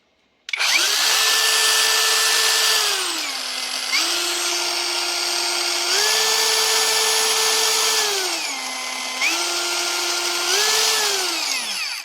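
Repaired Parkside X20V cordless angle grinder spinning up: an abrupt start into a loud high whine that repeatedly drops and rises in pitch as the speed varies, close and alone, then cuts off.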